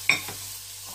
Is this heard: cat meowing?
no